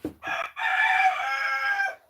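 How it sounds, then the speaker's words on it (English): A rooster lets out a single loud, close crow, a short rising opening followed by a long sustained call of about two seconds, heard alone. "That and a rooster."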